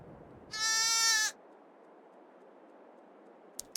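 A single short, loud bleat from a baby lamb on a farm pasture, followed by near silence and a couple of faint ticks.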